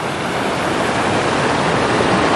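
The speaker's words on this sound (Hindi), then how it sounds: "एक ये छोटा सा नदी का एक झरना टाइप कह दीजिए, वो काफ़ी ऊपर से आ रहा है" Small mountain stream cascading as a waterfall from high up near Gulmarg, Kashmir, giving a loud, steady, broadband rush of falling water that holds unbroken throughout, close by and with no voices.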